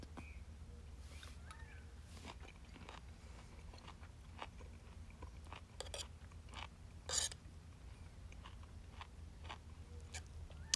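Chewing on boiled and pan-fried prickly pear cactus pads, faint, close-up bites and crunches scattered through a quiet outdoor desert setting, with one sharper crunch standing out partway through.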